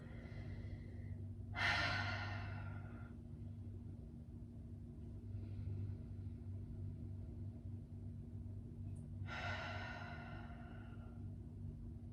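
Slow, audible breaths from a person resting in a wide-legged child's pose during a yoga practice, with two clear exhales spaced several seconds apart over a steady low hum.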